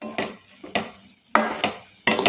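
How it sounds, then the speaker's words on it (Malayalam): Spoon scraping and stirring ash gourd halva in a metal pan, four bursts of clattering scrapes at a steady rhythm, close and fairly loud with no talk. "ഇതിനെ ഒന്ന് നന്നായി പാത്രത്തിൽ നിന്ന് വിട്ട് വരുന്ന വരെ ഇളക്കാം."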